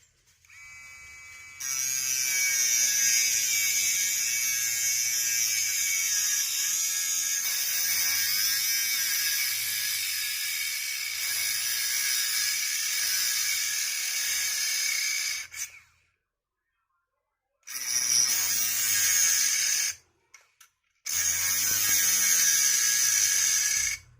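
An OCA glue remover machine for an iPhone 14 Pro runs with a steady high whirring buzz for about fifteen seconds, stops in near silence, then starts again in two shorter bursts, close and fairly loud.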